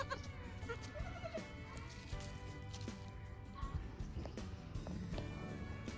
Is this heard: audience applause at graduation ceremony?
no